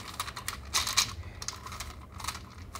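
Plastic segments of a Magic Bean pop can twisty puzzle click and rattle in a quick run of small, close, light clacks, uneven in rhythm, with no talking.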